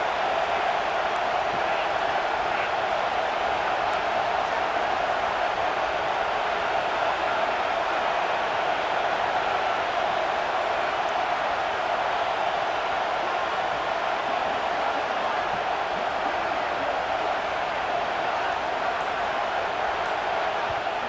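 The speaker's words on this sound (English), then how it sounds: "listen to this crowd noise. This stadium is vibrating." Steady, loud crowd roar fills a stadium in a college football video game, a sustained wash of cheering that barely changes over the whole stretch.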